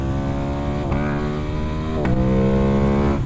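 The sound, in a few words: modified parallel-twin 270-crank motorcycle engine revving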